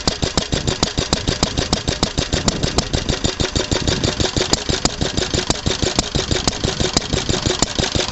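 A Lister D stationary engine mounted on a trolley runs steadily nearby, its single cylinder firing in a fast, even, loud chugging beat throughout with no talking.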